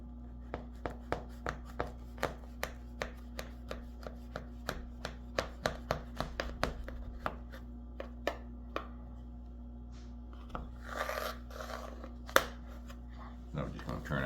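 A knife cuts down through layered baklava in a baking pan, producing a steady run of crisp, crunchy slicing ticks that later thin into irregular rustles and scrapes.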